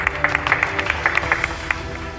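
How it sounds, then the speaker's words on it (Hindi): An audience at a public gathering claps after being invited to, a short patter of individual claps of moderate loudness lasting about two seconds, without speech on top. "तालियां बजाइए।"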